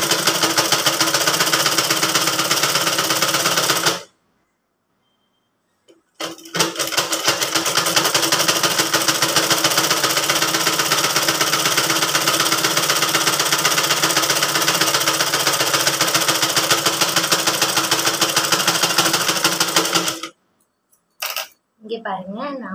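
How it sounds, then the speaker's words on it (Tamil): A sewing machine runs at a steady, loud, rapid clatter while stitching a blouse panel, stopping once for about two seconds, then running on before halting with a few short final bursts near the end. "உங்களுக்கு ஸ்டிச் பண்ணிட்டு நான் காட்டுறேன்."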